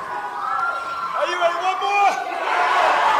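Spectators roar and shout in a continuous wall of cheering at a wrestling bout, with a few rising whoops and a loud voice calling over the crowd.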